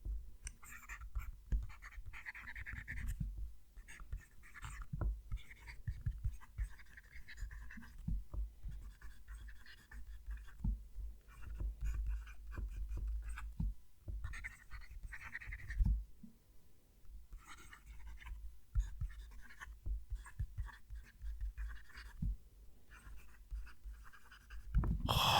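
A Golden Blue Jay Enceladus fountain pen with a medium nib writes across smooth paper, giving a soft, close, whispery scratching in irregular bursts of strokes, separated by brief pauses, over a low background rumble.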